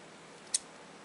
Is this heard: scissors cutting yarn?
yes